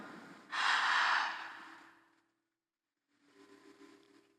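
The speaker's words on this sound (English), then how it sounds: "Let's take a deep breath in through the mouth." A single deep, loud breath is drawn in through the mouth, a rushing airy inhale lasting over a second that fades, followed after a short silence by a quieter, softer breath, as in a guided breathing exercise.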